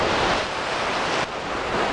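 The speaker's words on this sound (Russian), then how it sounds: "какие волны идут сзади, она прям на меня." Sea waves breaking on a Crimean shore: a loud, continuous wash of surf roars close by, mixed with wind buffeting the microphone, and no voices.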